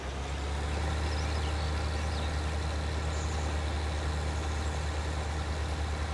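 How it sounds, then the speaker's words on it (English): Tractor engine running in Farming Simulator 19 while working a straw harvest, a steady low diesel drone with constant rumble and no change in pitch, heard alone. "It definitely is working, this tractor"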